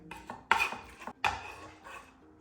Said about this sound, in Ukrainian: Часник простираю ножем